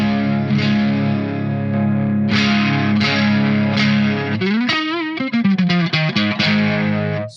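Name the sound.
guitar through tube amp, BOSS GE-7 EQ mid boost distorting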